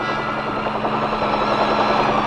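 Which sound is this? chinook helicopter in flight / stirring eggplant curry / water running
chinook helicopter in flight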